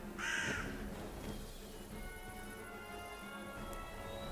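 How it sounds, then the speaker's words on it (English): One crow caws briefly at the start in a Minecraft video game. A steady background hiss and faint ringing tones continue afterward. "The birds are in the video game."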